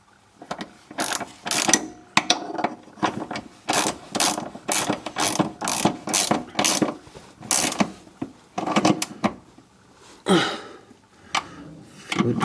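A ratchet tightens the gearbox mount bolts on a Mercedes C200 CDI with rapid, loud, close metallic clicking in repeated bursts and short pauses between strokes.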